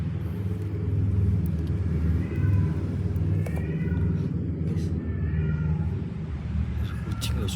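A cat meows several times in short upward cries inside an abandoned house, heard under loud overlapping talk and a low rumbling background.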